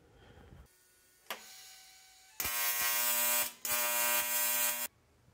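Welding a bead to attach a proportioning valve mount for a disk brake conversion, a loud steady electric buzzing crackle in two sustained bursts after a quieter hum, close and with no voices.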